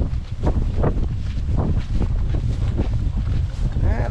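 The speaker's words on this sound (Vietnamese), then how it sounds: "Gió lên vậy chứ không mưa." Gusty outdoor wind buffets the microphone in continuous rumbling bursts, with faint voices under it, during an outing to watch a black eagle hunting herons.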